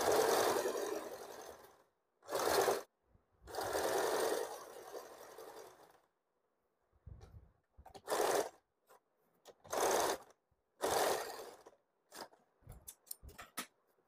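A sewing machine stitches a blouse sleeve, running in short close bursts of a second or two separated by silent pauses, ending in a few quick clicks and brief runs, with no talking.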